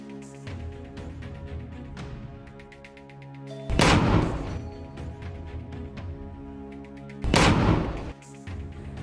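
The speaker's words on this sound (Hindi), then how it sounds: "इजरायली बलों पर भी भारी कैलिबर मोर्टार गोला दागने का खुलासा किया" Heavy caliber mortar shells fire twice, each a loud, broad boom several seconds apart, over steady background music during fighting in Rafah.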